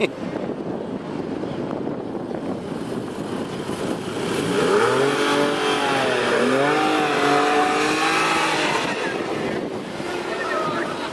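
Porsche cars launch and accelerate down a drag strip at a road show, engines rising in pitch as they pull away, loud and steady under wind noise, with people talking.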